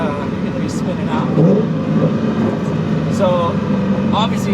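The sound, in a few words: car engine revving through upgraded exhaust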